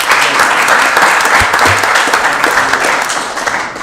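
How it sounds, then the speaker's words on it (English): Applause fills a council chamber during a regular council meeting, a dense steady wash of many hands clapping close and loud for nearly four seconds before tapering slightly at the end. "Can we give him a round of applause, please?"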